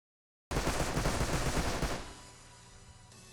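A sustained, loud burst of rapid automatic MP5 fire in the game Rust, a tight stream of close shots lasting about a second and a half before cutting off and leaving a decaying echo tail.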